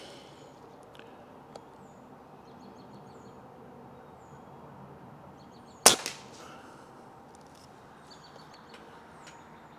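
A Crosman Drifter air rifle fires a single sharp, fairly quiet crack at an outdoor plinking target partway through, against a hushed outdoor background with faint bird chirps.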